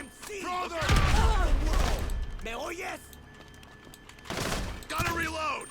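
Rapid bursts of gunfire in the video game GTA Online, dense crackling volleys in two clusters with a quieter gap between them, loud and close, with talking in places.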